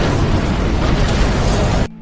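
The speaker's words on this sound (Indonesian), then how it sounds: "mobil pun meledak" A car blows up in a bank-robbery crime film, a loud sustained explosive roar filling the whole clip before cutting off abruptly to a low hum.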